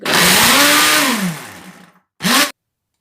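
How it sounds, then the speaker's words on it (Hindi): A kitchen grinder whirs loudly as it grinds dates for a burfi, its motor pitch sliding down as it winds to a stop, then a second short burst after a pause. "खजूर मेरी ग्राइंड हो चुकी है।"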